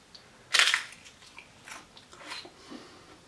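A crisp chip scooped through hot spinach and artichoke dip with garlic and cheese crunches in one sharp close bite, followed by quieter chewing crackles in an otherwise quiet room.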